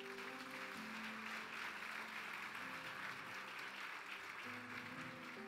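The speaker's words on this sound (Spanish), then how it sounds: "Dale un aplauso fuerte a Jesús" Church congregation applauding, a dense continuous patter of many hands at moderate distance with a faint voice or music tone beneath, fairly quiet throughout.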